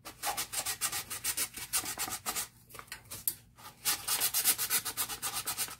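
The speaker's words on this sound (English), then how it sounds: "And sand down so you can see just a teeny tiny bit of the stainless steel." Sandpaper scrubs across a stainless steel drip tumbler held at an angle, making quick rhythmic rasping strokes up close, with a brief pause midway before the back-and-forth sanding resumes.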